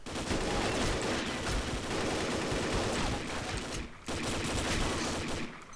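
Dense, rapid gunfire from the video game Combat Arms rattles almost continuously, loud and close, with one short break before the bursts resume.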